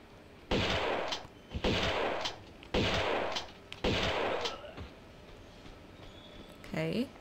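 Shotgun blasts in Tomb Raider 2: Golden Mask, four heavy booming shots at a steady, roughly one-second rhythm, each with a short decay, followed by a softer thud and quieter game sounds.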